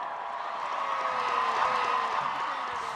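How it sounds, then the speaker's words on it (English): Crowd cheering for the Duke and Duchess of Cambridge after the Prime Minister's congratulations on stage in Ottawa, a steady, dense roar of many voices with whoops, sustained at an even level throughout. "On stage, the Prime Minister congratulated them on their marriage, and the crowd kept on cheering"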